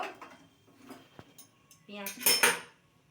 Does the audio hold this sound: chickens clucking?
no